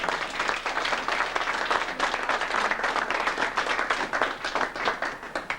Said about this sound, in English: I think that deserves a round of applause on its own